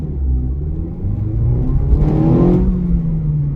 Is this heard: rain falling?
no